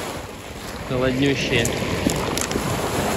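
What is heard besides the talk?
sea waves on a pebble beach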